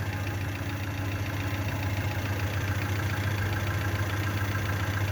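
A Hyundai Accent 1.5 petrol engine with sequential injection and an LPG system idles after a cylinder head rebuild, a steady, even hum with a low throb that holds without change, heard close and alone.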